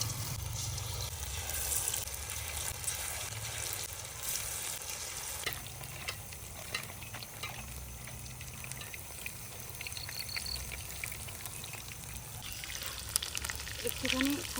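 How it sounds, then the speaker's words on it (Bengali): Mushroom pakoras dropped into hot oil in a pan, a quiet steady crackling sizzle that continues throughout, with occasional bubbling and light spatula scrapes. "এবার আমি এক একটা মাশরুম তেলের মধ্যে ছাড়বো।"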